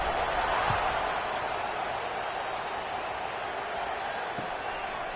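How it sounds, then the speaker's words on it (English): A college football stadium crowd at LSU vs Alabama keeps up a steady, distant roar and murmur for several seconds, broad and constant with faint thumps underneath. "this crowd is buzzing after that last score"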